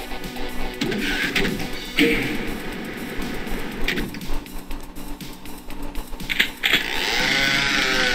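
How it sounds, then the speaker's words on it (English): A chainsaw in the video game Doom buzzes in short bursts, near and fairly loud, mixed with game noises and a steadier mechanical whir toward the end. "Got a chainsaw."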